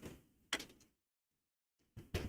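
A residential front door opening: a sharp clack and rattle, then near silence, then another close knock-like clunk as it moves, with no talking.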